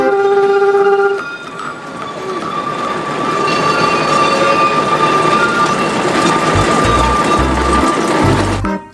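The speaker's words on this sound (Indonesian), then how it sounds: "Yang ini ada kereta Thomas." A toy Thomas train runs with a steady mechanical whir and rattling clatter, close and fairly loud, alone without talk, ending in a few thumps.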